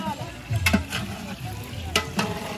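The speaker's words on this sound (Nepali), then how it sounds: "मामाले यहाँ खाना पकाउँदै हुनुहुन्छ को मासु पाल्दै है" Meat cooking in a pot over a fire at a family picnic, with a soft sizzle and a few distinct scraping stirs of a utensil against the pot, close and fairly quiet.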